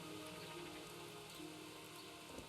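Steady rain pours down in a medieval open-world role-playing game, a dense continuous patter on surfaces with no breaks, moderately loud and unaccompanied by voices.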